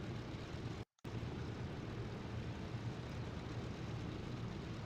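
Boeing 307 Stratoliner piston airliner taking off in the MSFS 2020 flight simulator, a loud steady broadband engine and propeller roar that cuts out briefly near the start, then resumes unchanged.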